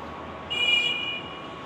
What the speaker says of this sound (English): It's a little bit noisy here, so we're getting closer to the train station. There's a lot more traffic here.